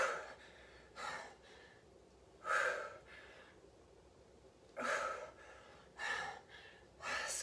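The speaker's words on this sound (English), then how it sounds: "Breathe." Heavy breathing during a live metabolic weights workout, a series of forceful breaths and gasps at irregular intervals, close and alone with no talk.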